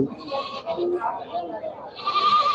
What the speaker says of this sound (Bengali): দেখেন এখানে কিন্তু অসংখ্য ছাগল রয়েছে